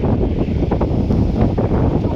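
Wind gusting along the Mekong riverside, a steady broad rumble of buffeting air that stays loud and close on the microphone with no voices.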